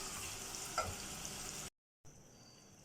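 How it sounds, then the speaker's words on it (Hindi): Boneless chicken pieces fry in a pan for a few minutes until their colour changes, giving a steady hiss of sizzling oil with a faint stirring knock before a brief gap of silence and a quieter continuation. "इसको 2 से 3 मिनट इसका कलर चेंज होने तक जो है वो इसकी भुनाई करेंगे"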